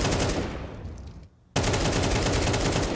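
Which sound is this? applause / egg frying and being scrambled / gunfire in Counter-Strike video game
gunfire in Counter-Strike video game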